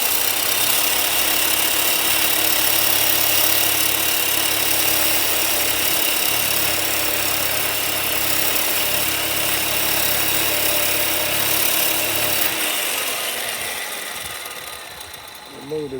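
A power tool cuts off the failed ball joint of a 2007 Jeep Liberty with a loud, continuous, close grinding roar that eases and fades near the end.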